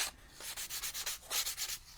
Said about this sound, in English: just some fine grit sandpaper, and I kind of just went into the grooves and just gave it a little bit of a sanding